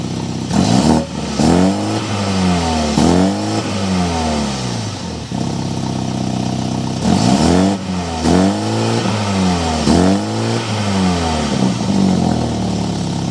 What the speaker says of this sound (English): start it up so you can hear that exhaust now